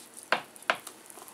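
Two short spoon scrapes against a pan while chicken pie filling with cheese is stirred, fairly close and separated by a brief pause, with a faint sizzle underneath.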